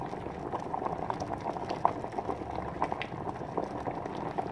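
An egg boils in a pot of water in a hotel room, a soft continuous bubbling and gurgling with small pops, quiet and close, with no speech.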